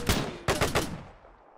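Rifle fire in Arma 3 in a pre-WW2 marksman setting: a few sharp, loud shots, one early, a quick cluster of three, then a fading echo and another crack at the end.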